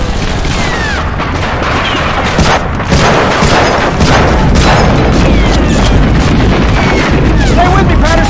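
In a Medal of Honor: Frontline beach battle on PS2 and PS3, dense, loud gunfire and booming explosions pound without a break, with shouted voices under the din.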